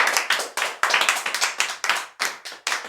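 A church congregation claps in rapid bursts after a call to acclaim God, loud and close with uneven rhythmic hand claps, with no cheering voices standing out.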